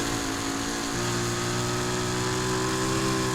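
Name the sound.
Lamborghini Aventador SVJ engine in video game Need for Speed Heat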